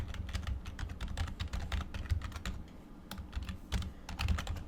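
An email address is typed on a computer keyboard, giving a close run of crisp keystrokes in quick uneven bursts with a few short gaps.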